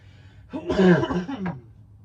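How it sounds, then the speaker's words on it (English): A single rough cough or throat clear from someone who is ill, close and fairly soft, in an otherwise quiet room. "I do apologize for the coughing."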